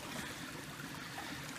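A stream on a secret river runs toward a waterfall, giving a steady broadband rush of flowing water, close and even throughout, with no voices.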